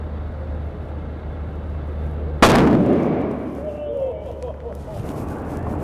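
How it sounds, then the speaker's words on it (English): A half stick of dynamite detonating in a fire department fireworks safety demonstration, one sudden loud blast that rings out and decays over a few seconds against a steady background hum. "that's what you just saw, a half a stick of dynamite"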